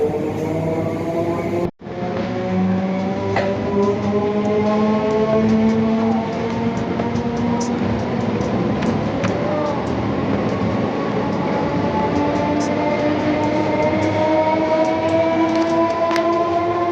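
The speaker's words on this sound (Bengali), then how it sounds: "ট্রেনটা এখন ছেড়ে দিল। কত লম্বা ট্রেনটা" A long train pulls out of a station with a continuous heavy rumble of wagons and wheels, joined by drawn-out tonal whines and squeals that rise and shift as it gathers speed, loud and close throughout.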